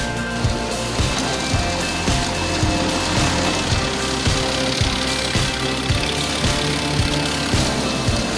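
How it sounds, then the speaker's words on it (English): A Moose Max wood chipper runs close by, its engine knocking in a fast, even rhythm with repeated heavy thumps, with no distinct bursts of chipping standing out. "The Moose Max wood chipper is a beast when it comes to handling wood quickly and efficiently."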